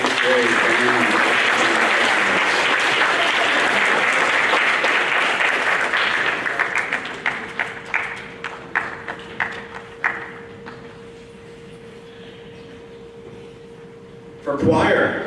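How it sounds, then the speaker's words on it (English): School audience at an 8th grade awards program applauds the band, a dense loud round that thins after about six seconds into scattered claps, then stops before a brief burst of noise at the end. "A round of applause for our 8th grade band."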